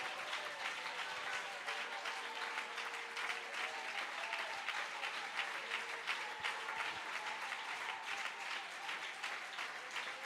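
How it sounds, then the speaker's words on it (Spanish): Church congregation applauding during a Thursday worship service, a steady dense wash of many hands clapping continuously and evenly throughout, with faint tonal music lines underneath. "Dale ese aplauso al Rey que viene por su iglesia."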